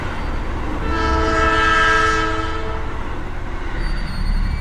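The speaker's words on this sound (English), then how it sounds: "the oncoming train rushed towards the platform" A train rushes toward a station platform, its horn sounding a loud, steady blast with strong harmonic tones that swells to a peak about two seconds in and then eases off while the rumble of the rails continues.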